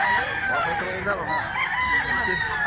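A rooster crows loudly and close by, its long wavering call filling the clip, with faint chatter in the background.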